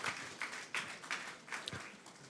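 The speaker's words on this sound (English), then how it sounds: "Round of applause." Audience applause at a startup pitching stage at Slush 2012, a steady wash of many hands clapping with pulsing swells, moderately distant and alone without talk.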